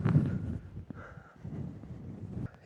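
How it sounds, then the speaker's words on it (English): Gusts of wind buffet the microphone, producing low rumbling bursts that swell and fade over a few seconds. "it's very windy."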